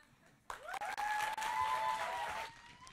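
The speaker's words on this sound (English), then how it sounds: "Keep clapping for her, man." Audience applause after a spoken-word performance, a sudden burst of dense clapping from a crowd that holds steady for about two seconds before tapering off, no talking over it.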